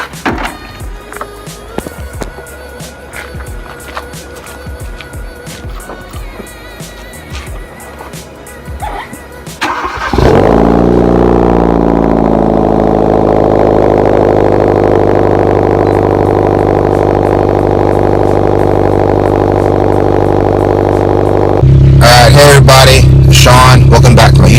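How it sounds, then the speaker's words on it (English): A Hyundai Veloster Turbo engine cold-starts with a sharp crank and catch, then settles into a loud, steady high idle that holds and rises again near the end. "Time for a cold start."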